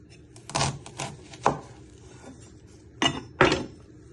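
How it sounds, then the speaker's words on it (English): A kitchen knife chops an onion down the middle on a board for a chicken balti curry, making a few sharp, close taps on the board with short pauses between cuts. "Then you're going to chop it down the middle."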